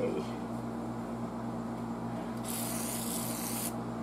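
Cleaner sprayed onto the cabinet of an Atwater Kent Model 35 radio gives a steady hiss of about a second near the end, over a constant low room hum and background noise.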